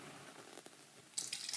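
Tap water begins gushing from a household faucet partway through, a steady hiss that starts abruptly after a near-silent stretch and continues to the end.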